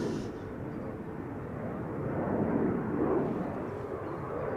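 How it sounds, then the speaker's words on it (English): A TUI Boeing 737 MAX 8 at Schiphol Airport gives off a steady, broad jet engine rumble at moderate distance, swelling slightly midway and holding on without voices. "This is a MAX 8 from TUI, which is also interestingly going to Glasgow"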